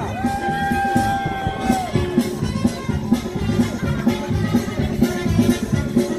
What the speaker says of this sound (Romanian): aplauze pentru Diana!